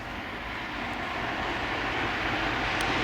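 A steady, broad engine roar from a plane flying overhead and banking right, holding a fairly loud level and swelling slightly as it goes, with no voices over it.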